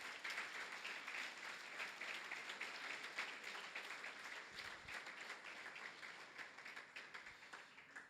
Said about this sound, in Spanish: Queremos darle otra ofrenda de palmas al Señor porque Dios lo merece.